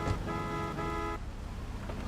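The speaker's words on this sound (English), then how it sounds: "Don't honk at me." A car horn honks in Grand Theft Auto III, a steady sustained toot that runs about a second before cutting off, with game background noise continuing under it.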